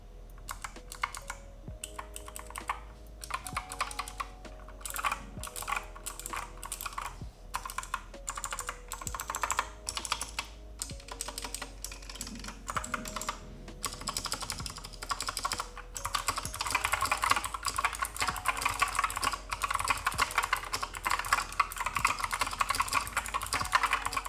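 Typing on an Epomaker SK61 mechanical keyboard with Gateron switches, a steady run of close, crisp keystroke clicks that grows denser and louder toward the end, with no talking.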